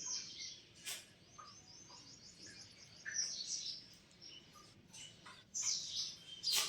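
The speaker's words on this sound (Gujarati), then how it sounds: "હવે આ ત્રીજી ચકલી પણ આવી ગઈ" House sparrows chirp while pecking at grain scattered outside a home in the morning, several short bright tweets coming in scattered bursts over a quiet background.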